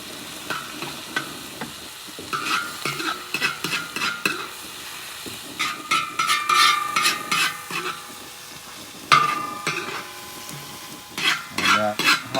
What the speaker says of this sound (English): That hot oil is almost instantly cooking that egg